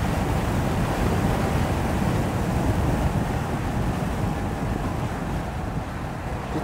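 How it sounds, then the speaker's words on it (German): Wind roars and buffets continuously around the open cabin of a moving 2017 Mercedes-Benz S 500 Cabriolet, a dense, steady rush that fills the whole stretch. "weil ich merke, es ist halt deutlich mehr Wind"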